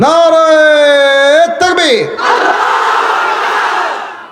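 A single voice holds a long rising call, then a large gathered crowd answers with a loud, sustained roar of shouted takbir that slowly fades.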